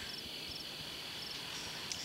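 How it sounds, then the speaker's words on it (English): Crickets chirp steadily at night, a dense continuous insect trill with faint repeating pulses and no voices. "Did you miss the crickets too?"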